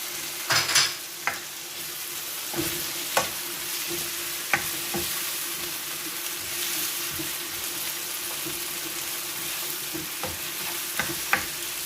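Tomato paste stirred into a frying pan of cooking food: a steady close sizzle with scattered sharp clicks and scrapes of the spoon against the pan, no voices.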